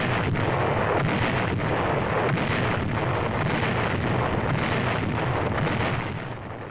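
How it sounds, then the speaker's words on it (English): Archival recording of Chinese artillery guns firing: a dense, continuous rumble of heavy booms that stays loud throughout and fades slightly at the end. "The sound of red Chinese guns speaks louder than Zhou Enlai's words"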